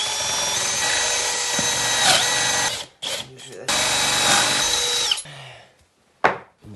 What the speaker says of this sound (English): Tricky drilling into this vertical grain.